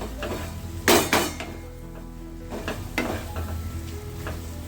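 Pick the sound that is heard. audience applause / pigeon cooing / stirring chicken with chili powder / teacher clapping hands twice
stirring chicken with chili powder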